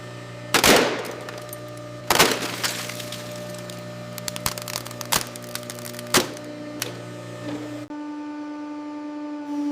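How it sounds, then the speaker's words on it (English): A hydraulic press crushes a hard drive, its ceramic platter shattering in loud sharp cracks and snaps, several separate bursts over a steady mechanical hum that cuts out near the end. "At this point, the internal ceramic platter shatters completely."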